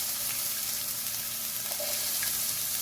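Chopped onions sizzle in two tablespoons of hot cold-pressed oil, a steady close hiss of frying with small crackles and pops, no voices.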